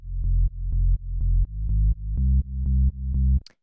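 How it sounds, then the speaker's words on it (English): A single sine-wave bass from Ableton Operator, warmed by saturation, plays seven even sustained low notes in a steady pulse, loud and alone, ending with a short click. "we just have this sine wave, and it's going into some saturation to kind of give it more like warmth"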